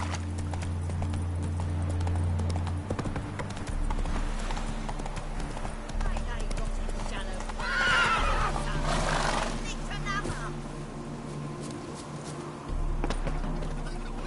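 Geralt's horse Roach in The Witcher 3: Hearts of Stone, hooves clip-clopping in a steady trot with a loud whinny midway, over game ambience and a low hum.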